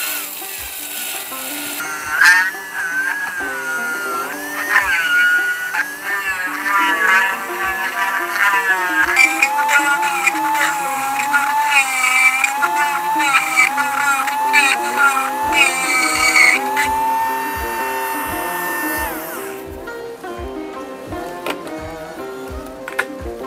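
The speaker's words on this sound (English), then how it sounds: "So I switched to a very small drill bit because I know the wedge is tapering and getting smaller." A small drill bit bores into the wooden wedge of an old axe head, a loud whining buzz that rises and falls in pitch for about seventeen seconds, then stops and leaves a few soft knocks.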